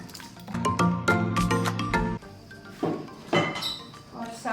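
Mashed tomatoes go into a degchi for homemade tomato chutney, with a spoon clinking against the metal pot and soft wet squelches as the pulp is scraped in close to the microphone.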